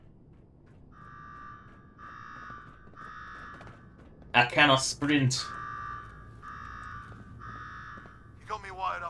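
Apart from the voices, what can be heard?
alarm sounding in Fallout 4 video game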